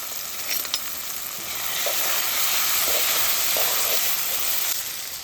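Green chillies hit hot oil in a pan of frying onion curry, giving a loud, steady, close sizzle with faint stirring scrapes and no talk.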